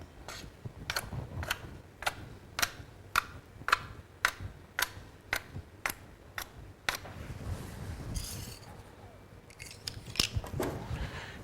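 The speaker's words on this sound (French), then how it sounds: "Et ensuite au ciseau," Scissors snip decorative slits into Viennese baguette dough, making a regular run of about a dozen crisp, close clicks, followed by softer handling noises and a few more scattered snips.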